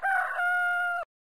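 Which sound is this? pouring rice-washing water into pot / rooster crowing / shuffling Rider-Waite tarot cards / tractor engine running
rooster crowing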